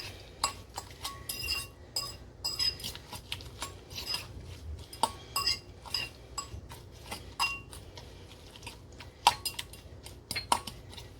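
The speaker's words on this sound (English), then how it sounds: "you're going to give that a good stir" Spoon clinking and scraping against a bowl while stirring apple cinnamon oatmeal with hardened brown sugar, a steady run of small sharp taps and scrapes close up, with no talking.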